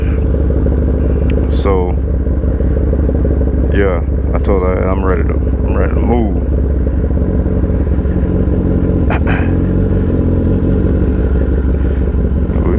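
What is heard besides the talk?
2022 Kawasaki ZX10R motorcycle engine running after cold start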